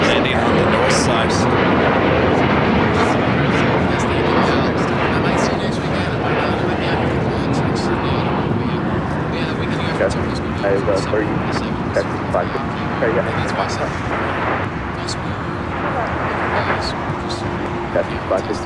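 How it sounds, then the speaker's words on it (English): A United Airlines Boeing 787-10 Dreamliner arriving from Tokyo Narita lands on the north side at LAX, giving a loud, steady jet roar that fills the whole stretch, with a voice talking faintly over it. "A United Dreamliner landing on the north side."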